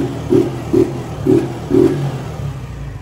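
Honda motorcycle engine with fresh oil after an oil change, blipped in four short, sharp revs spaced about half a second apart over a rumbling idle, loud and close.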